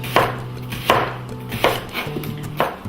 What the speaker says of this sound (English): We're gonna slice these thinly.